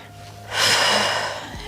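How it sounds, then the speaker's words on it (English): One deep breath is drawn during a pregnancy Pilates workout. A loud, breathy inhale or exhale lasts about a second, heard close and alone, with no talk over it. "Breathing. Never hold your breath in pregnancy."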